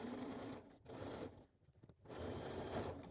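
A sewing machine stitches a line of shirring along the bottom of a dress skirt at a 2.5 mm stitch length, its steady motor whir running close and loud, dipping into a brief stuttering pause midway before resuming.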